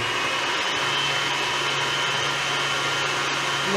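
An electric stand mixer whirs loudly and steadily, mixing crème brûlée ingredients with a constant, close motor hum and no breaks.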